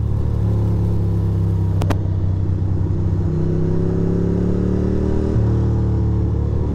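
A Ducati motorcycle engine drones steadily while riding on wet Catskill Mountain roads, its pitch rising gradually with a brief sharp click near the middle and a shift in tone late on, loud and close throughout.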